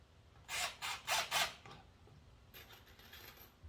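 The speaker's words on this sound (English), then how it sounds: "I'm going to start some screws" A power drill driving screws into wood while building a barn bench, four short whirring bursts in quick succession, fairly close and alone, followed by a faint high whine.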